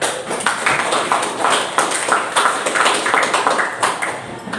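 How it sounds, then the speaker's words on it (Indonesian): A school class applauding a student, continuous brisk clapping from many hands for several seconds, close and fairly loud with uneven rhythm. "Tepuk tangan untuk Rehan."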